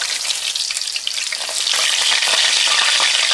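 Pork schnitzel frying in hot oil over medium heat gives a dense, steady crackling sizzle close by, growing a little louder and fuller about halfway through, with no talking.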